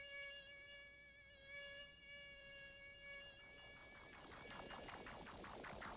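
A mosquito buzzes with a steady, thin, high whine that holds and then wavers as it moves, faint and alone with no voices.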